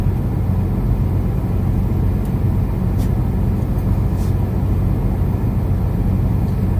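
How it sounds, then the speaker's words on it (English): A truck engine hums in a steady, continuous low rumble while driving, with an even, unbroken drone from start to finish and no voices. "the purr of the truck makes me sleepy"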